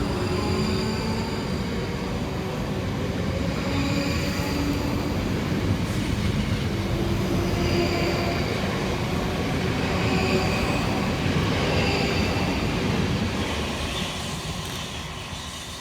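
A pair of coupled South Western Railway class 458 electric units runs through Winnersh station on a Waterloo to Reading service, giving a continuous loud rumble and wheel roar with faint squeals that eases slightly at the end.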